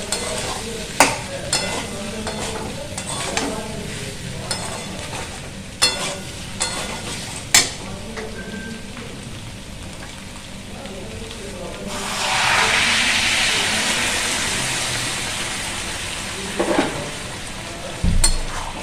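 Jackfruit sizzles and is stirred in a pan, with scraping clicks throughout and a louder burst of hissing frying partway through.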